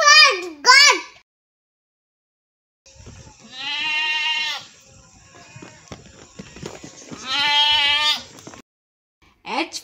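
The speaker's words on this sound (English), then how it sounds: "G for goat." A goat bleats twice in long, wavering cries, close and loud, with rustling and shuffling movement in between and a short voice at the start and end.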